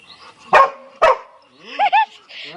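A Labrador barks through a window nearby: two loud, sharp barks about half a second apart, then a pair of higher whiny yips and a softer trailing whimper, with no talking.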